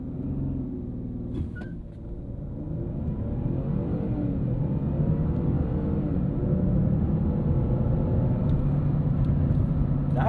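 A 2017 Ford Fusion Sport with a twin-turbo V6 launches off the line, its engine rising into a steady, loud, droning rumble that builds and holds from inside the car.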